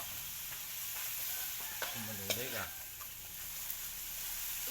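Food stir-fries in a pan with salt and holy basil, giving a continuous bright sizzle with scraping stirs. A voice briefly speaks in the middle.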